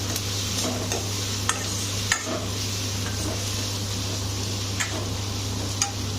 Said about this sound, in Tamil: அது உடனே வதங்கணும்னா கொஞ்சமாக உப்பு போட்டு வதக்கணும் தக்காளி நல்லா சீக்கிரத்தில் வதங்கிடும்